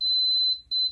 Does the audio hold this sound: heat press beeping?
yes